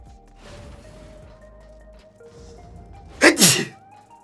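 A person sneezes once, loud and close, a sharp burst with no talking around it and only quiet background.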